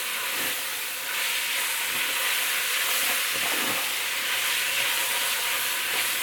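Meat browning in a pan for a green bean and meat stew, a steady close broadband sizzle with occasional stirring scrapes throughout, no voices.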